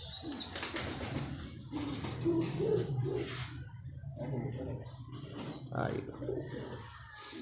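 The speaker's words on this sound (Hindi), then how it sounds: "ये कबूतर है, ये उड़ा हुआ इसका कबूतर है" Pigeons coo softly in a pigeon club loft, low throaty calls mixed with wing flutters, while someone talks nearby over them.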